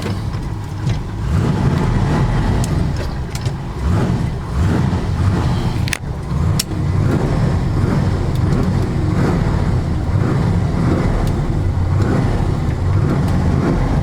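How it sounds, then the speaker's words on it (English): A 1970 Dodge Super Bee muscle car rolls along the road, its engine rumbling loud and close with steady throaty drone, brief revs and a few sharp knocks over road noise, no talk. "We're gonna take this beautiful car for a ride."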